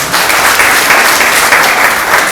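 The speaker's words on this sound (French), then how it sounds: "Applaudissez pour ce couple." Wedding guests at an official wedding ceremony applaud the couple, a loud and steady wash of clapping from a crowd that carries through without a break.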